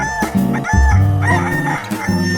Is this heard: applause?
no